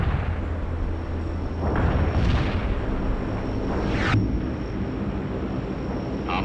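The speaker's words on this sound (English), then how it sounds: "Stand clear of the blast." A wreck is blown up in a video game, with a deep explosive boom rising around the two-second mark and a second sharp blast near four seconds over a steady low battlefield rumble.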